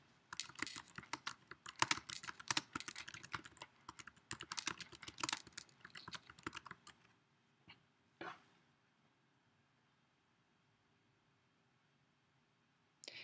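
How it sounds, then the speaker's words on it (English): Rapid clicking of keys on a computer keyboard in quick bursts, close up, then slowing to a few isolated taps before trailing off into quiet. "click and drag and start typing"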